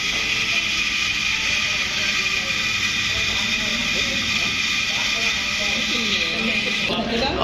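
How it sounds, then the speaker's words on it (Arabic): A sewing machine motor whirs at a constant high speed, a loud steady buzzing hum that cuts off abruptly near the end. "معلش بعتذر يا جماعه على صوت الموتور"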